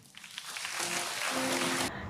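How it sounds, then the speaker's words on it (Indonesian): A congregation at a church sermon starts clapping, building quickly from scattered claps into a dense burst of applause, with a sustained musical tone running beneath before it cuts off abruptly. "Tepuk tangan Tuhan kita"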